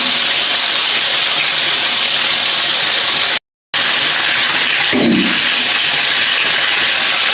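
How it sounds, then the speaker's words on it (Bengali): A steady, loud hiss of fish frying in hot oil fills the scene close up, briefly cut off midway, with no voices. "মাছ ভাজাগুলো ভেজে নিই।"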